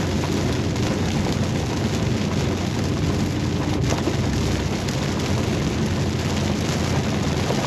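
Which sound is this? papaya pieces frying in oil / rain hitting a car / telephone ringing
rain hitting a car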